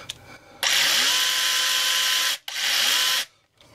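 A DeWalt DCS438 brushless 3-inch cordless cut-off tool whirs up to a loud, steady high-pitched spin twice, stopping briefly between runs, close and with no speech.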